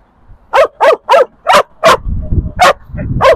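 Sharp, loud dog barks at a dog market, a run of six evenly spaced yips close by, then more barks over rustling and faint voices.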